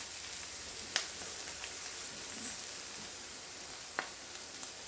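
Minced garlic, ginger and curry paste sizzle steadily in a hot pan over medium heat, a soft continuous hiss with a couple of brief sharp pops.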